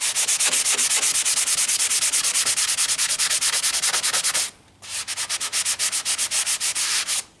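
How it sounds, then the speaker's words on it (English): A 330 grit sanding block rubs over vinyl side art on an Atari arcade cabinet, in a long run of fast, loud, close back-and-forth scratchy strokes, a brief pause, then another steady burst of strokes with no talk. "330 grit sanding block"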